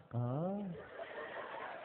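A human voice imitates a crow's caw with a single drawn-out, rising-and-falling vocal call, followed by quieter murmuring.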